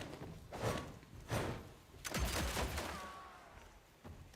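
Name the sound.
gunshots in the video game Evil West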